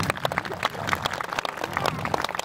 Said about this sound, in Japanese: スイレンに大きな拍手を